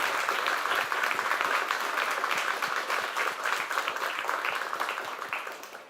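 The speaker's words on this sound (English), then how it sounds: "Can we get one more round of applause?" Audience applause at a Real Matter architecture lecture, a dense, steady round of clapping from a crowd that keeps going for about six seconds and fades slightly at the end.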